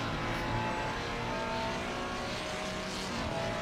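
Ferrari and McLaren GT3 race cars in a Le Mans Ultimate sim-racing event at Paul Ricard, France, a steady blend of engines droning and whining together at sustained high revs.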